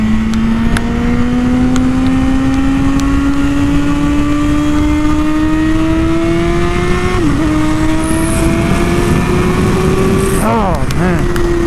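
A 1000cc motorcycle engine revs hard under throttle, its steady rising engine tone climbing over several seconds, dipping briefly, then sweeping up and down in quick blips near the end, loud and continuous with wind noise.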